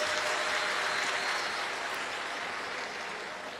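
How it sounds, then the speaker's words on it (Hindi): Loud, dense applause from a large audience at a Shiv Mahapuran katha gathering, clapping for the host family, sustained and even before slowly tapering off. "यजमान परिवार के लिए जोरदार ताली बजाएं"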